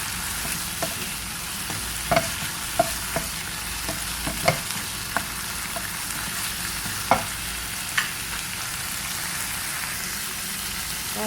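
Minced pork stir-fried with fish sauce for pad kra pao sizzles steadily while a spatula scrapes and taps the pan in irregular clicks, with no talking.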